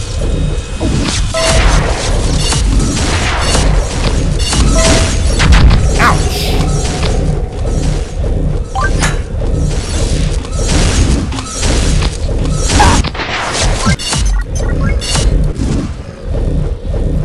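Loud, dense game-action crashes and thuds as the Jet Tenderizer mallet weapon strikes at close range in Pixel Gun 3D, heavy repeated impacts over busy combat noise.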